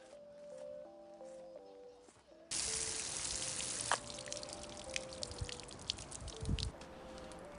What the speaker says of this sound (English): Further brushing out and flushing of the root ball reveals more and more of its true structure.